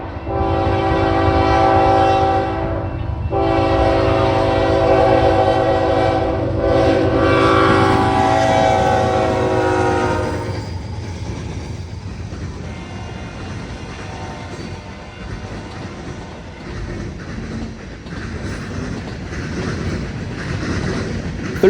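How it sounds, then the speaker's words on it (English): A Norfolk Southern manifest freight train with a Canadian National lead locomotive crosses rail diamonds, its multi-note horn blaring loudly for several seconds before giving way to rumbling wheels and rhythmic clatter. "Norfolk Southern 35N with a Canadian National leader crossing the diamonds"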